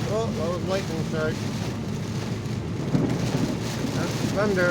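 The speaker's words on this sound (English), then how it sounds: "That's thunder." Thunder rumbling during a heavy rainstorm on a drive home, a low continuous roll beneath steady rain and wind noise, with no clear single crack standing out.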